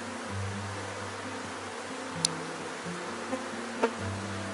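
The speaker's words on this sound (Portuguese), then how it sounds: "Muito top o enxame." A honeybee swarm gives off a steady, dense buzzing at close range, with no talk and no other sound in the way.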